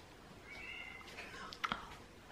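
A pet cat gives a short, faint meow indoors, a brief thin cry with a small click near the end, quiet within a soft room background.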